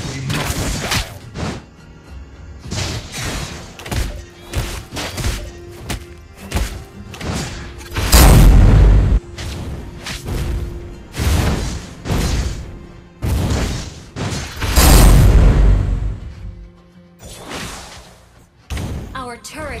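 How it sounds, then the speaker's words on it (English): Heavy thuds and booms erupt from the Mobile Legends mobile game as a turret is destroyed amid battle effects, with repeated impacts and two big surging blasts, while game announcer voice lines play. "Your team destroyed the turret."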